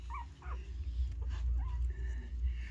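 Several Pomeranian puppies whimper and give small high yips in short bursts over a steady low background hum, close by and moderately loud.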